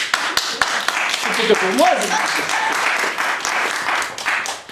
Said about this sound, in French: Ah, applaudissez-nous